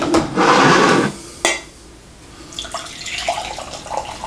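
Hot Kauai coffee from a drip machine pours in a steady splashing stream for about a second, then a cup clinks and lighter trickling and handling sounds follow, close by.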